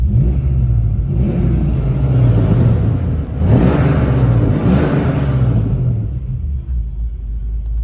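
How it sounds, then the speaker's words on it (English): A 1988 Ford Mustang Foxbody convertible with a 5-speed idles, then its engine is revved in two strong swells that rise and fall before settling back to a loud, close idle rumble. "I'm going to give it a rev."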